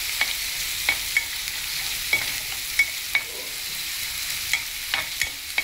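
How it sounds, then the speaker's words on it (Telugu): Ginger garlic paste frying in a pan, a steady close hiss of sizzling oil broken by sharp clinks of a spoon stirring at irregular intervals. "ఇప్పుడు కొద్దిగా అల్లం వెల్లుల్లి పేస్ట్ ఇలా విడిగా వేస్తున్నాను"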